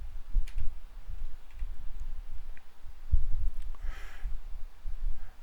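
Soft, sparse computer mouse clicks tick at irregular intervals, fairly faint and close, against a low background hum.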